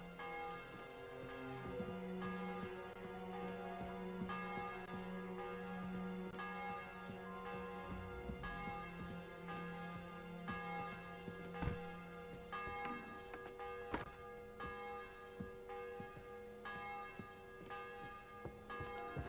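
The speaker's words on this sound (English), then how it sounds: "The bell's ringing for Hans the 5th time." Church bell in a medieval video game village tolling with long overlapping resonant strikes, ringing steadily over a faint ambient background with no speech.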